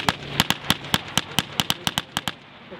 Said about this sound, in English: The Spitfire passes over, firing down on the Germans, causing considerable damage.